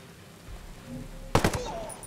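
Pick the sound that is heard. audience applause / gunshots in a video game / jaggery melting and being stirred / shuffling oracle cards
gunshots in a video game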